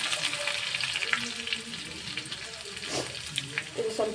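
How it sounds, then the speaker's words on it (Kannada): Coriander frying in a little oil after mustard seeds, cumin and garlic have spluttered, giving a steady close sizzle with faint stirring scrapes throughout. "ಇದು ಸ್ವಲ್ಪ ಎಣ್ಣೆ ಫ್ರೈ ಅಲ್ರಿ"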